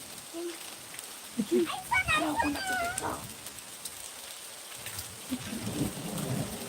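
Heavy rain with hail falls in Kashmir as a steady broadband hiss throughout, with voices talking nearby partway through.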